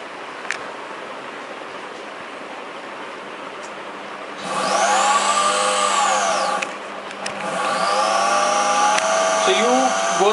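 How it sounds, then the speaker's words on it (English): An electric motor fed through an AC controller in a power electronics lab, humming steadily and then rising into a louder whine with sweeping tones as its speed increases, with brief dips and recoveries. "the motor will start rotating with the greater speed"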